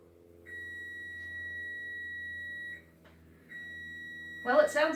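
A kitchen oven timer gives two long, steady electronic beeps, each lasting about two seconds with a short gap between them. A faint background hum runs underneath, and a voice begins speaking just as the second beep ends.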